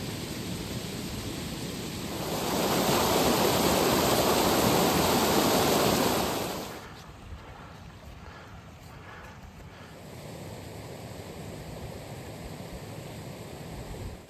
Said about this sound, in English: fast flowing river, we continued to climb